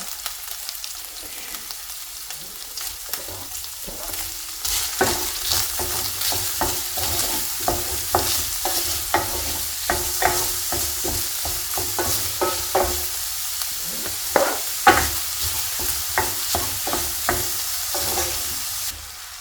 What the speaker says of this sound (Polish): Smażymy tak długo, aż cebula nam się tak lekko zeszkli, tak przerumieni się boczek